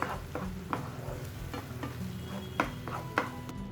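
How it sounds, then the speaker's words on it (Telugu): Ground masala paste is worked into fried brinjal in a pan, producing a low sizzle under repeated scraping and clinking spatula strokes against the metal. The sounds are spaced unevenly, close by, and no one speaks. "గ్రైండ్ చేసి పెట్టుకున్న మసాలా పేస్ట్ని కూడా యాడ్ చేసేసుకుందాము యాడ్ చేసుకొని సారి బాగా మిక్స్ చేసుకుందాము"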